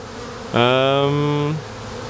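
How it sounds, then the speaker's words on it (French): A swarm of honeybees resting on the ground gives a loud, steady buzz lasting about a second, close up, against quiet outdoor background. "Là, présentement, l'essaim est par terre."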